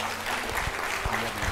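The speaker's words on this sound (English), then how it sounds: "let's give him a warm round of applause" Applause from an audience welcoming a speaker to a presentation, a steady continuous patter of many hands heard up close and fairly loud, with no one speaking over it.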